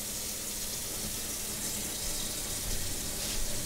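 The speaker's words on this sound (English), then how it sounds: "Let me pop this in the sink and add some water." Tap water runs steadily into a kitchen sink, a continuous hissing splash that holds even and close for the whole stretch, with no voices over it.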